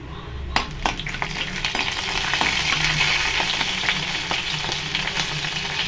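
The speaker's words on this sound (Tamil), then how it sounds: "கடுகு பொரியட்டும்." Mustard seeds crackle and pop in hot oil in a pan, a dense steady sizzle with sharp spluttering bursts that continue throughout, close and loud with no voices.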